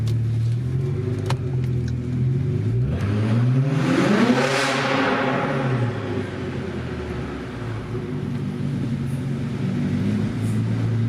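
Straight-piped twin-turbo BMW fitted with ARM downpipes revs hard nearby, its engine note climbing to a loud peak around the middle and falling back to a steady, rumbling idle.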